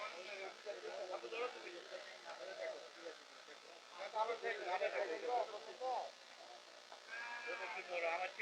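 Goats bleat repeatedly at Gabtali livestock market in Dhaka, several overlapping calls rising and falling amid steady crowd chatter and people talking nearby.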